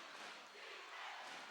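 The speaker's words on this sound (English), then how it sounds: "That's the Leuzinger traveling crowd behind us. And right now, they're making a lot more noise than the San Clemente crowd" Leuzinger's traveling fans cheering at a high school basketball game, a dense roaring crowd wash with no distinct voices standing out.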